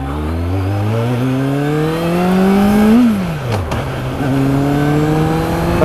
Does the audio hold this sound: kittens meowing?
no